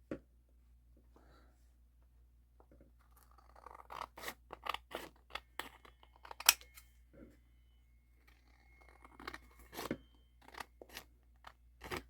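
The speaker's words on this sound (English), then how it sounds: "So let's grab the scissors." Scissors snip repeatedly through thick material in crisp, uneven bursts, close up, with quiet pauses between cuts.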